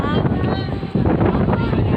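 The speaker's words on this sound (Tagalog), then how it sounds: "Ang lakas ng hangin. Ayan mo, nililipad-lipad ako dito." Strong wind buffets the microphone in a steady low roar, with a voice speaking over the gusts throughout.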